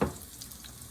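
Okra coated in grated cheese and breadcrumbs fries in hot oil, a soft continuous sizzle and crackle that starts with a brief louder burst as it enters the pan, then settles to a quiet steady hiss.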